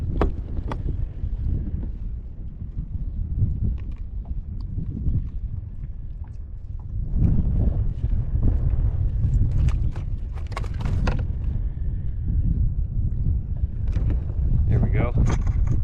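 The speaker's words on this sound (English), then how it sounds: "This wind has really got us." Steady wind buffets the microphone on a fishing kayak out on shallow inshore water, a continuous low roar with gusts that swell and fade, alongside a few faint knocks and rustles.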